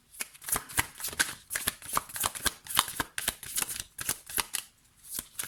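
A deck of tarot cards is riffled and cut by hand in rapid, uneven bursts of crisp flapping and slapping, close and fairly loud, with short pauses between shuffles and no talking.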